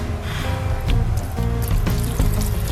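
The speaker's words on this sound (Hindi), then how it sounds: "2 से 3 टेबलस्पून आपने इसमें पानी के ऐड कर देने हैं।" Water trickles and splashes steadily into a blender holding tomatoes, a close, continuous liquid pour with small gurgling surges.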